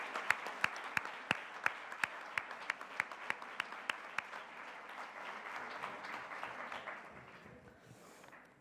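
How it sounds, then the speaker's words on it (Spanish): An audience in a hall applauds at length, starting with a few sharp, evenly spaced claps that swell into steady, moderately distant clapping and then fade out. "pido un aplauso para ella porque se encuentra aquí en primera fila."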